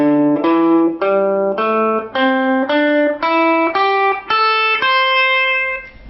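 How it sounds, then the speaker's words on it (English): Electric guitar picking out a blues scale note by note, about eleven clean sustained tones climbing steadily in pitch, close and clear with no speech. "So today I'm going to show you what's called the blues scale."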